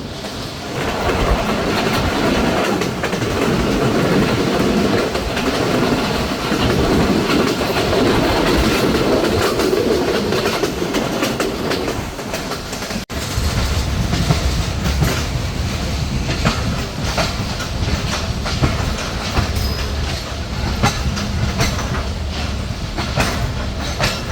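The Barendra Express, an intercity train, runs nonstop through Arani railway station on a curve, a loud continuous rumble with rhythmic clickety-clack of wheels on rails throughout.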